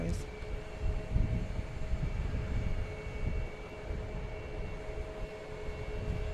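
British Airways jet taking off from runway 15 right at Boston Logan Airport, a steady broad engine roar with low rumble and faint tonal whine, heard from a distance and holding level throughout.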